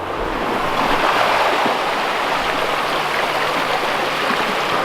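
Sea waves surging onto a narrow beach at high tide between Nusa Lembongan and Nusa Penida, a steady broad roar of surf with wind, loud and continuous without a break.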